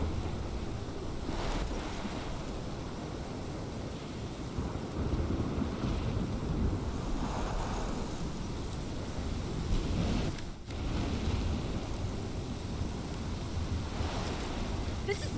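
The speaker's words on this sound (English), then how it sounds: "This is my storm." A storm in Life is Strange roars steadily with dense wind, rain and crashing surf, a continuous loud wash with rumbling low end and a brief dip near the middle.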